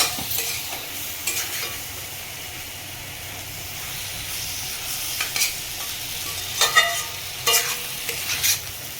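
Fish curry cooking in a home kitchen pan, a soft steady sizzle with intermittent scraping stirs of a spatula, growing busier toward the end, close by and alone.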